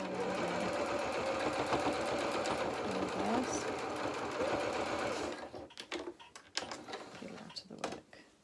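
A sewing machine stitches doll-sized Hawthorn suit trousers, running in a steady loud whirr for about five seconds before stopping, followed by a few scattered knocks and handling sounds.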